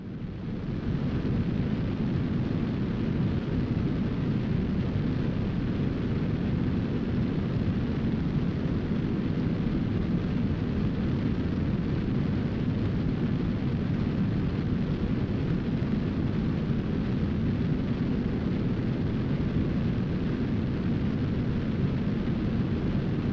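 A rocket engine in the game Rocket Science, a continuous loud, deep roar that stays steady and unbroken throughout, with no other sounds standing out.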